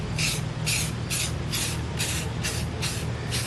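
Repeated short hissing bursts of an aerosol spray paint can, about eight quick sprays in a steady rhythm over a low background hum.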